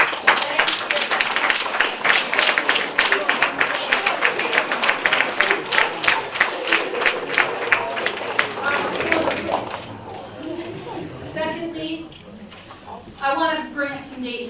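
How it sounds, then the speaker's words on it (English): A large audience at a school board meeting claps loudly and steadily for about ten seconds, then the applause thins out into scattered claps and a few voices. "So please give a round of applause, all of you, to these kids."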